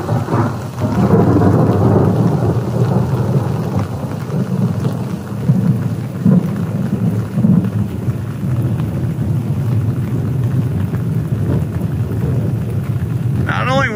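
Thunder rolls through a thunderstorm as a deep sustained rumble over steady rain, loud and close, fading slowly over about fourteen seconds.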